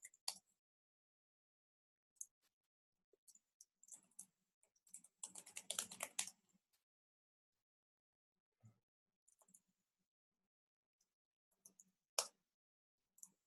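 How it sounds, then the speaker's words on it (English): Quiet, close keyboard typing comes in short bursts of clicky keystrokes, with one longer flurry in the middle and pauses of near silence between. "Just doing things like typing in my two-factor authentication."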